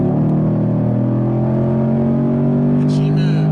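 A V8 engine in a 6th-generation Camaro SS accelerates hard, a loud steady droning roar heard from inside the car, rising slightly in pitch with a brief shift near the end.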